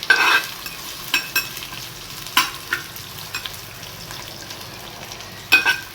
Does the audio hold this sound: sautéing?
yes